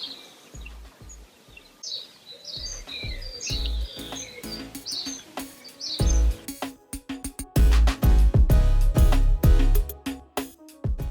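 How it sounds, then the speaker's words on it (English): Birds chirp and sing in bright, scattered calls in a garden, joined partway through by louder rustling and thumping noises nearby. "You can listen to the birds."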